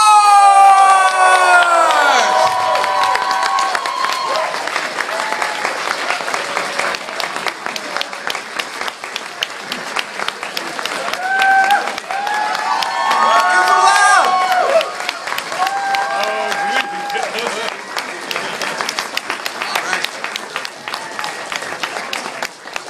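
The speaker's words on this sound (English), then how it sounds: "Ladies and gentlemen, big round of applause" Loud, sustained audience applause and cheering greets the cast and crew at a Salute Your Shorts reunion panel, dense clapping with shouts and whoops rising and falling over about twenty seconds, with an announcer's amplified voice sliding over it at times.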